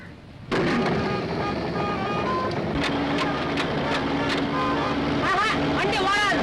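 A vehicle engine starts abruptly and keeps running loudly and steadily, with voices talking over it.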